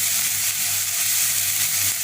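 Ginger and garlic sauté in a pan for Sri Lankan-style chicken peratal, giving off a dense, steady hiss of sizzling oil, close and loud, with no voices.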